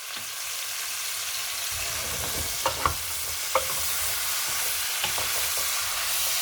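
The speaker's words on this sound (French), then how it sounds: "feu très vif. Hein, parce qu'il faut que les légumes soient saisis." Vegetables searing in a pan over very high heat, a loud steady sizzle throughout, with a few sharp clinks and scrapes of stirring partway through.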